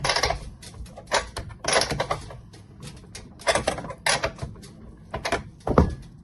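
Spark-plug tightening with a 19mm socket brings short, close bursts of ratchet clicking and mechanical rattling, separated by brief pauses.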